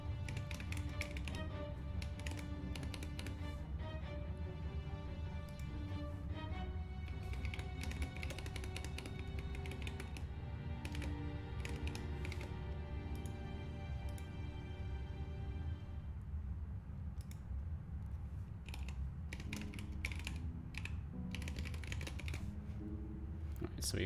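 Clicky bursts of typing on a computer keyboard come in short irregular runs, mixed with quiet background music while a person talks at times.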